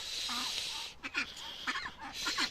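Farm ducks quack in several short bursts, fairly close and moderately loud, over a steady background hiss on a morning round of the animals.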